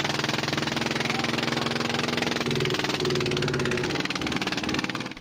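A fishing boat engine runs steadily during a chase at sea near Ayungin Shoal, a loud continuous mechanical drone with a slight shift in pitch midway, close and without voices.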